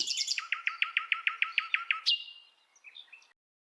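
A nightingale sings alone and close by: a rapid run of about a dozen evenly spaced, bright repeated notes, then a high sustained whistle and a few softer trailing chirps.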